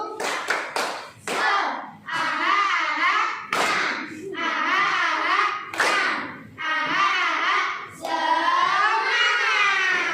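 A classroom group claps a rhythmic cheer, sharp bursts of many hands alternating with children chanting in unison, the pattern repeating several times at close range.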